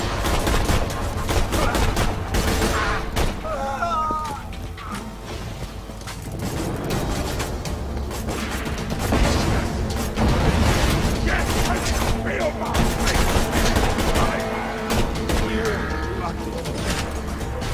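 Gunfire in the video game Borderlands 2, with loud dense bursts of shots, mechanical clatter and game music and effects, as a player talks over the action.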